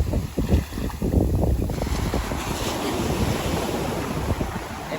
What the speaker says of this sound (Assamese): ডাঙৰ ঢৌ আহে আপোনাক উটুৱাই লৈ যাব পাৰে